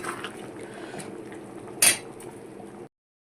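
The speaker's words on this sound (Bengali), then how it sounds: "দিয়ে একটুখানি ভালো করে নাড়িয়ে দেবো" Chicken curry (chicken maharani) being stirred in a pan after sugar goes in: soft scraping and faint liquid movement near at hand, with one brief sharp clink of a utensil against the pan midway before it stops.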